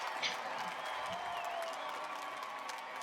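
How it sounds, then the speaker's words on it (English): A stadium crowd in a simulated 1986 Mets versus 2004 Red Sox baseball game keeps up a steady roar of applause and cheering, with faint whistles above it. "Red Sox fans cheering, trying to pump up their hometown team."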